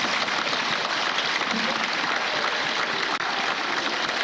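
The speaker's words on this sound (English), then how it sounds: "let me invite all of us in the National Assembly to applaud the remarks of the Right Honorable Speaker, Tajuddin Abbas" Applause from members gathered in Nigeria's National Assembly chamber, a steady dense wash of many hands clapping throughout, loud and sustained with no speech over it.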